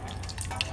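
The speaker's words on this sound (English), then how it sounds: "you can pour a little bit more hot water" Hot water poured and dripping while a container is rinsed, a soft, steady watery trickle with a few brighter drips, close and quiet, with no talking.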